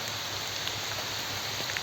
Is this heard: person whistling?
no